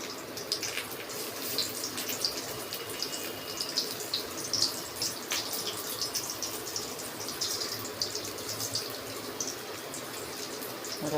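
Pumpkin and gram-flour fritters fry in hot oil, a dense, even bubbling sizzle with a few sharper crackles. Close and continuous throughout, with no voices.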